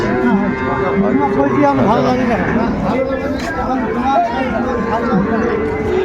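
Young Sahiwal calves lowing at a busy cattle market, repeated moos rising over loud crowd chatter and people talking close by.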